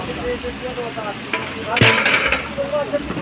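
Boiled seeded banana frying in a pan for a village-cooked meal, a close sizzle with occasional stirring scrapes and a louder burst of hissing partway through, under faint background voices.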